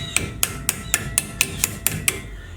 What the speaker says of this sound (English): Sometimes you take a hammer